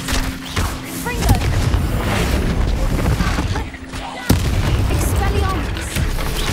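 Booming blasting-spell explosions in a Hogwarts video game hit repeatedly in a dense, loud barrage, with a sharp burst near the end, while in-game sounds and a voice mingle underneath.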